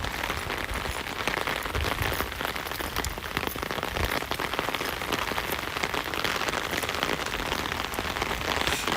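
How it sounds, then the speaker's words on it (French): Heavy rain pours down steadily at close range, a dense, unbroken hiss and patter of drops hitting surfaces, with no voices heard. "je m'entends même pas parler avec la pluie"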